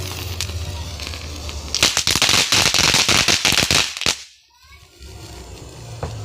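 Firecrackers bursting outdoors at night in a quick series of sharp, loud cracks and pops clustered over a couple of seconds, followed by quieter surroundings, with people talking around them.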